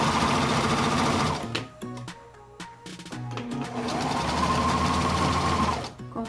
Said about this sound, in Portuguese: É quando você está costurando e aí você resolve costurar para trás para poder firmar aquele ponto.